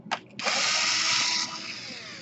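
A small power screwdriver whirs as it backs out a screw on a Lenovo G560 laptop during a power jack repair, a short blip followed by a sustained, fairly quiet whine that trails off.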